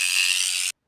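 Noisy gear mechanism of a Trackmaster Thomas toy train, a loud, tight, high-pitched mechanical whir and grind running steadily for under a second before cutting off abruptly.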